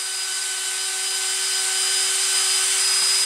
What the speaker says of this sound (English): I'm going to be drilling a pilot hole through the rim joist to the outside.